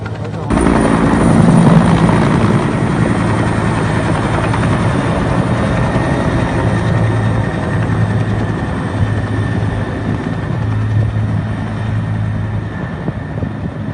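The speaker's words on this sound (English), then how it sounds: "Steps were taken to deploy a Bell 212 helicopter of the Sri Lanka Air Force." A Sri Lanka Air Force Bell 212 helicopter drones loudly and steadily, its rotor thrum and engine whine holding continuously at close range with no pauses.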